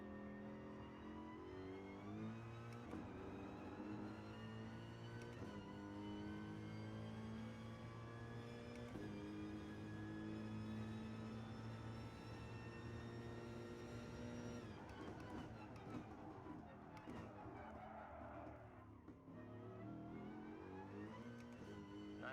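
A race car in Gran Turismo 7 laps the track, its engine held at a loud, steady, close drone. The pitch climbs through each gear, drops sharply at every shift, and eases off near the end for a corner.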